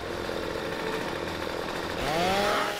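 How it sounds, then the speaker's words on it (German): A chainsaw buzzes continuously in the video game Alan Wake as it is used in an attack, loud and close, with its pitch surging in a revving whine near the end. "Ist der Gegner allerdings dumm, bringen wir ihn mit der Säge um"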